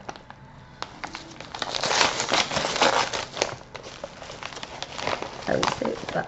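Paper crinkles and rustles as a mail envelope is opened, crackling continuously at close range while someone speaks French over it.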